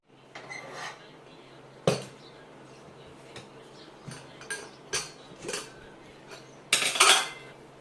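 Metal utensils clink against a cooking pot while checking cooked dal in a home kitchen: a few sharp separate clinks and scrapes, with a louder cluster near the end, and no speech.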